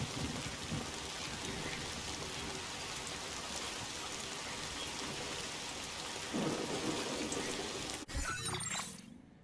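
Steady heavy rain and rumbling thunder fill a stormy scene in the video game Death Stranding 2: On the Beach, a constant dense downpour with a sharp crack near the end before the sound drops away.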